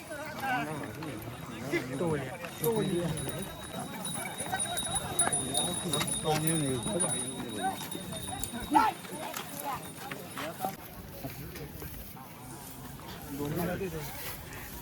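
Bulls and bullock carts arriving at the Mhasa yatra cattle market in Murbad, with hooves clopping on hard ground and cart rattles scattered under nearly constant talk from people nearby.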